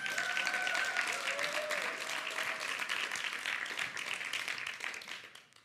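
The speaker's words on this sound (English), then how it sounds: "That was a really nice round of applause." Audience applause at a Hague Talks event on corruption, a dense, steady clapping from the crowd that fills the hall and fades out at the end.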